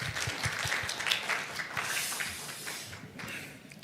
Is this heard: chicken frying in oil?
no